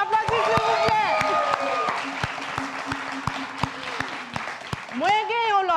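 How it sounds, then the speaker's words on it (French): Event audience applauding at a 2022 launch show, many hands clapping with sharp distinct claps over a crowd murmur, while voices and cheers ring out over the applause. "Ma Muya, Woudjina, on l'applaudit s'il vous plaît."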